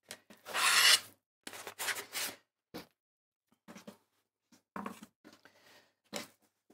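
Leftover fabric is cut along a template ruler, with short scraping, rasping strokes in separate bursts between quiet pauses.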